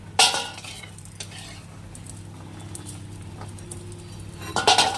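Fried pieces, reddened in a pan, lifted out with metal utensils: a sharp scrape and clatter at the start, a lighter clink near one second, a soft quiet stretch over low hum, then another burst of clinking scrapes at the end.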